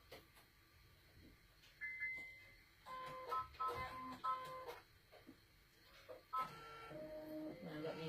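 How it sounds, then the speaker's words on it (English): Domestic sewing machine stitching across fabric in short bursts, quiet mechanical whirring that starts and stops with small clicks and gaps between runs. "Then I sew this across here."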